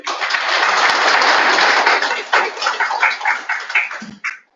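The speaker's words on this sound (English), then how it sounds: "I think we should give them a huge round of applause" Audience at a Pakistani consulate event giving a loud round of applause nearby, dense clapping for about two seconds that then breaks into scattered, tapering claps before stopping.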